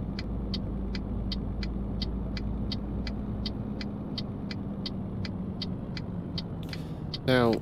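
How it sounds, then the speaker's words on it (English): A Scania V8 truck engine in Euro Truck Simulator 2 rumbles at a steady idle under a regular ticking beacon or indicator, with a brief hiss near the end. "very fond of the V8 sound, the Scanias, the Scania V8s, that is"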